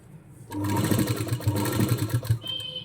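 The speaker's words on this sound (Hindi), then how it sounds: "अब इसको अंदर साइड से थोड़ा सा मोड़ते हुए एक बार फिर से हम यहाँ पे सिलाई लगा देंगे" Sewing machine running a steady stitch along the inside-folded edge of a Rajasthani kanchli blouse, one continuous close whirring run of about two seconds, with light rhythmic thumping under it.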